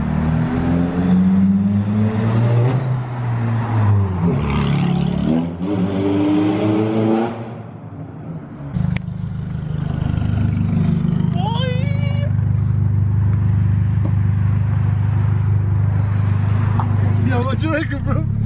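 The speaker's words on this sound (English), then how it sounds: "You have no idea how loud this fucking car is till you hear it go by." A straight-piped Audi TT Mk1 blasting past beneath a bridge, its engine roar swelling and dropping twice as it goes by, very loud and close, with voices talking over it at the start.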